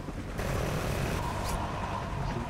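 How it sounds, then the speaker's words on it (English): An enemy helicopter hovers nearby in a Call of Duty Ghosts multiplayer match, its rotor giving a steady, fairly loud droning wash with no talk. "Oh, enemy helicopter."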